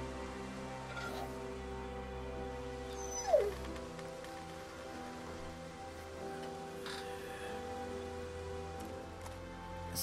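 A dog in The Walking Dead: Season 2 whimpers and whines softly, with one brief higher yelp partway through, over a quiet steady background hum with rain-like patter.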